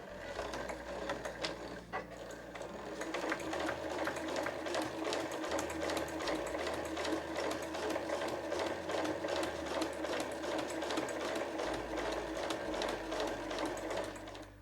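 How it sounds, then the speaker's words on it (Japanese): A home sewing machine stitches 8-oz canvas for a tall tote bag, starting with a backstitch along the fabric edge; a steady, rapid mechanical whir with fast needle ticks runs close and continuous throughout. "それでは1センチ先に針を下ろして返し縫いからスタートしましょう"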